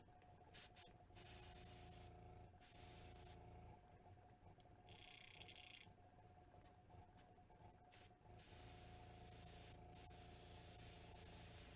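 Bursts of hissing airbrush spray with pink paint start and stop repeatedly, some short and some sustained, close by with a low steady hum beneath.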